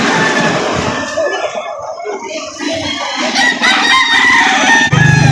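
Roosters crow at a market selling different chicken breeds in Lipa City, Batangas: a loud, close drawn-out call with clucking and other fowl around, amid busy outdoor background noise.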